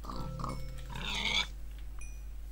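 A pig in a farming video game gives a few short grunts and a squealing oink, fairly quiet over a steady low hum.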